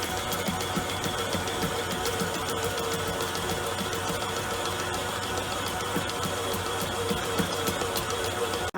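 Stand mixer kneading meat pie dough runs with a steady, continuous mechanical whir and rhythmic thumping, close and even throughout with no talking.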